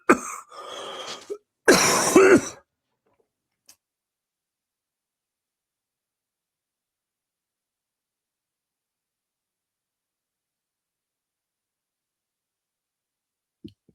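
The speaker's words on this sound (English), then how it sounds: "So I keep turning it off because I'm coughing so much" Two short, loud bursts of coughing come close together at the start, followed by near silence with only a few faint clicks.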